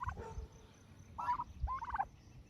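Backyard turkeys in a garden give a few short, bubbly gobbles in quick bursts, close by and fairly quiet, with no talk over them.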